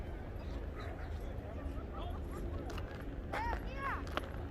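A dog gives a few short, high yips and whimpers toward the end, with a person talking faintly in the background, outdoors in snow in New York City after a snowstorm.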